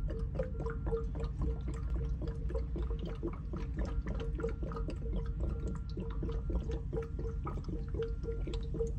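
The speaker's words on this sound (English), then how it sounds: "Don't you love the glug glug glug glug glug glug?" Water glugs rhythmically as it is chugged straight from a Tal 3-liter Zeus water bottle, a steady run of quiet, close gulping pulses lasting several seconds with no talking.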